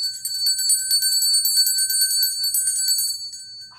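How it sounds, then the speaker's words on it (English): A small bell rings repeatedly in quick, bright, clear strikes for about three seconds, close and alone, then fades out. "Oh, it's our special bell."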